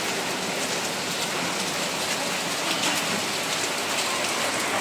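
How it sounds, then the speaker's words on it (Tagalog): Steady rain drums on a galvanized iron roof, a dense unbroken hiss of drops that stays loud and even throughout, with no voices. "Ayan, umuulan pa rin."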